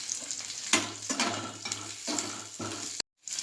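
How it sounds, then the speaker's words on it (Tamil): Onion, ginger and garlic fry in a pan for paneer gravy, giving a steady close sizzle with stirring scrapes in bursts, a brief cut to silence near the end. "இப்போ இதில் வெங்காயம் சேர்த்துக்கலாம். இப்போ இதில் இஞ்சி பூண்டு சேர்த்துக்கலாம்."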